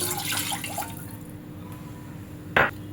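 A cup of milk is poured into a tea pot, giving a brief liquid splash at the start and a sharper splash near the end, both fairly faint in a quiet kitchen.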